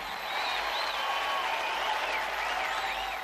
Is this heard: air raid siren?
no